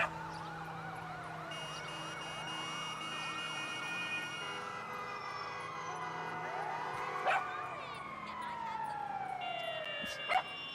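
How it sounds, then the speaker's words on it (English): An ambulance siren in the video game GTA Online wails through repeated rising and falling sweeps that last the whole stretch, loud and steady, with a few sharp knocks and a dog-like bark in the game's background. "An ambulance is here."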